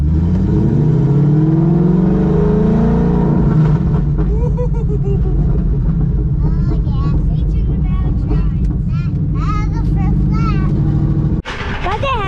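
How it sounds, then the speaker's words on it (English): A Coyote-swapped Ford Mustang engine revs loud and close, a steady throaty roar with rising and falling pitch, while people talk over it; the engine sound cuts off abruptly near the end. "It's a Coyote swap."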